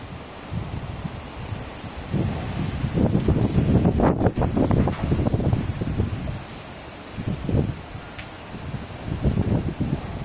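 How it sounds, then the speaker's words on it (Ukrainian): Strong wind buffets the microphone in loud, roaring gusts that swell and fade, with a constant high hiss underneath. "вітер страшний."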